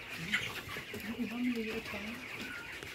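Chicks chirp and cheep in a busy, mid-distance cluster while they are delivered, with people talking over the calls.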